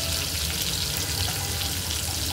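Ginger garlic paste hits a hot pan for shepu bhaji, giving a steady, dense sizzle and fry crackle that stays loud and close throughout with no talking.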